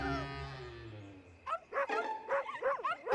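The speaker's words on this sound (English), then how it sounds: "What's that? It's the other pups!" Cartoon puppies yipping and whimpering in quick, high-pitched bursts that start after a fading musical tone, fairly close and lively, with no speech over them.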